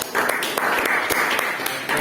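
A classroom group gives applause to a presenting student group during a practicum session, a dense patter of many hands clapping steadily and fairly loudly throughout, with a few sharper claps standing out.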